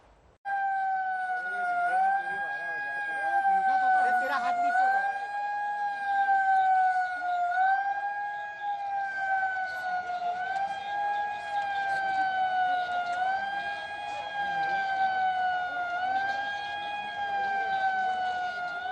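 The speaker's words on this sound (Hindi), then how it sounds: "मध्य प्रदेश में कल सायरन बजा ताकि लोग जागरूक हों" A civil defense siren sounds in Madhya Pradesh, a steady, wavering wail with a slight rising and falling pitch, held continuously for nearly twenty seconds at moderate distance.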